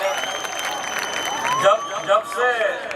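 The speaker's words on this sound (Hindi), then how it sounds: "एक बार तालियां बजाइए मोहब्बतों के लिए" Audience clapping at a poetry mushaira, a steady wash of applause running throughout while a voice talks over it.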